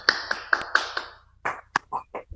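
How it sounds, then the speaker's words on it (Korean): A handful of people clap to welcome a speaker at a Korean missionary forum, sharp separate claps that come irregularly and thin out toward the end. "박수로 맞아드리죠"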